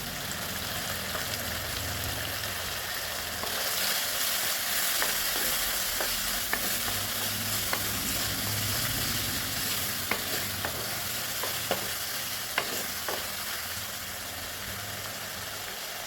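Tomatoes sautéing with salt and turmeric in a pan, a steady soft sizzle running throughout, with scattered clicks of a spoon scraping and stirring the mixture, close and continuous with no voices.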